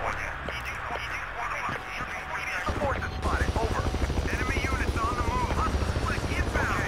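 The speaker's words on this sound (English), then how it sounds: "Oh, chopper." A helicopter in Battlefield 2 drones with a heavy, rhythmic rotor chop that swells midway and stays loud among gunfire and battle noise, with voices talking over it.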